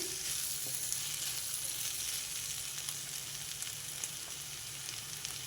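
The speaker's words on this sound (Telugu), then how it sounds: "మనం తాలింపులో పప్పు ఒక రెండు నిమిషాలు అయిపోయింది దీన్ని మళ్ళీ ఒకసారి మంచిగా కలిపేసుకొని" Chana dal sizzles and fries steadily in a hot tempering for a Telugu coconut-paste curry, with a faint scrape of stirring now and then. The hiss stays constant and close, and no one speaks.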